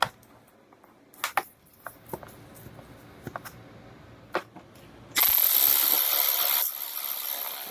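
A screwdriver working carbon fairing push pins on a 2012 BMW S1000RR: a series of scattered, close clicking and ratcheting snaps, followed by a sudden loud, steady hiss.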